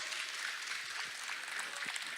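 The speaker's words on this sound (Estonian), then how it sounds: "Ja aplaus." Audience applause at a young mechanics competition award ceremony at a motor fair, a steady wash of clapping from a crowd, moderately loud and sustained without speech.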